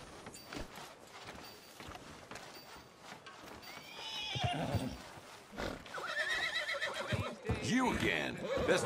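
A horse in Red Dead Redemption 2 gives a loud whinny amid clip-clopping hooves and street ambience, with voices talking over the scene.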